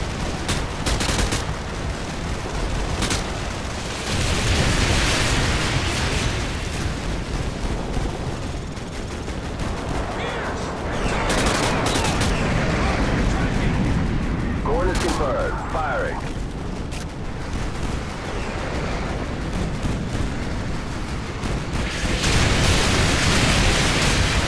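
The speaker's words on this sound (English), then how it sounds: "Artillery inbound." Incoming artillery shelling in the war game Modern Warfare 2, dense booming explosions mixed with heavy rattling gunfire, loud and continuous with rumbling blasts swelling and fading amid battlefield chaos and occasional voices.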